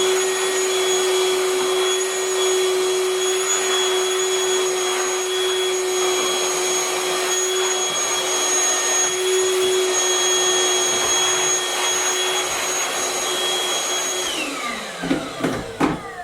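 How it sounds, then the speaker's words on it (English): A Ryobi P3240 shop vacuum cleaning a workbench runs loud and steady with a high whine, then winds down near the end as it switches off, followed by a few clunks. "But we have a vacuum, so we can fix this."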